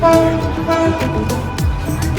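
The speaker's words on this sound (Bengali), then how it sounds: "ট্রেনের হর্ন শুনতে পেলাম" A Chattala Express train horn sounds at a busy railway station, with a steady tone standing out early over loud, constant platform and engine rumble.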